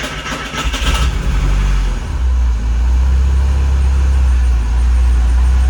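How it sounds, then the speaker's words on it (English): A Porsche 968 with a newly replaced alternator cranks briefly with a rapid starter chatter, then catches and settles into a loud, steady low idle that runs on alone up close. "but at least the car started"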